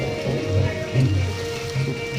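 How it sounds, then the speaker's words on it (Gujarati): Rain falling steadily on surfaces outdoors near Pipodara during a monsoon outing, a continuous patter with low rumbling background noise and no clear talk. "વરસાદ ચાલે જ છે"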